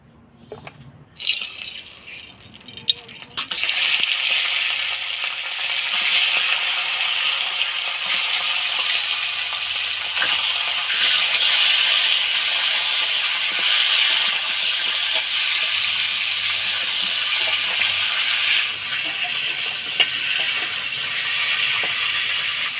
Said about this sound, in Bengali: মাছের মুড়াটা ভালো করে ভেজে নিলাম।